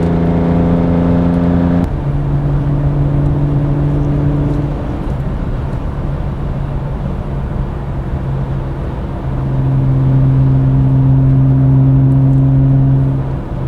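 A CSL-modded BMW E46 M3 engine pulls strongly through its rev range, a loud steady drone with clear harmonic tones that drop after a shift and then climb again, with no talk over it.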